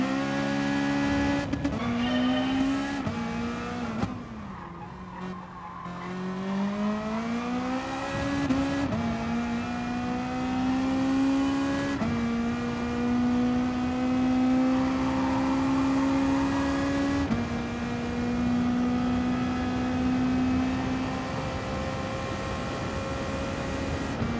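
Mazda Atenza race car in Gran Turismo Sport, engine droning steadily with pitch rising through gears and dipping on shifts, close and continuous for the whole stretch with no talk.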